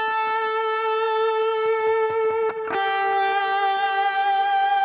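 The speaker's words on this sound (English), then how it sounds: "It's an overdriven, distorted tone. There's lots of delays happening. There's lots of reverb." Overdriven, distorted electric guitar with delay and reverb on a worship part, a sustained held note with ringing harmonics that slides to a new pitch midway, smooth and continuous with no voices.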